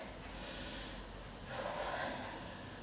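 A person breathes during a vinyasa power yoga flow, with two close, audible breaths in a quiet room.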